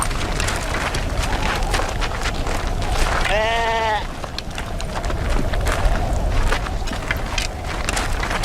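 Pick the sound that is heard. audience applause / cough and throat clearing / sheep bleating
sheep bleating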